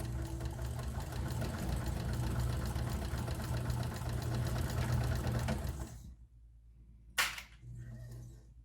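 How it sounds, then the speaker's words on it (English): A sewing machine straight-stitches a bag pocket about an eighth of an inch from the edge, a steady close mechanical whir that runs for several seconds, then stops, followed by a sharp snip and faint handling. "we're just going to straight stitch about 1/8 of an inch from the edge"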